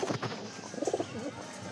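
A breeding pigeon held in hand, with other pigeons nearby, gives short throaty coos in a brief burst, close and moderately loud against quiet room noise.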